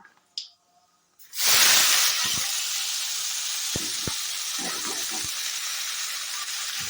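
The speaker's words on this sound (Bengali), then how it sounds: "আমি এবার দিয়ে দেবো কড়াইতে একটুখানি কালো জিরে" Nigella seeds (kalo jeere) hitting hot oil in a kadai burst into a loud, steady sizzle after a brief quiet start, with faint scattered pops and crackles continuing under the hiss.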